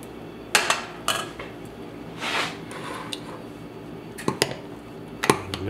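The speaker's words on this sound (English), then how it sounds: "Mix it around." Vegan coconut-milk oatmeal porridge being mixed in a pot, with a string of close metallic clinks and scrapes of a spoon against the rim and sides over soft thick squelching.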